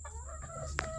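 Farmyard chickens cluck softly in a few short broken calls, with one brighter squawk near the end, fairly faint over a low background hum.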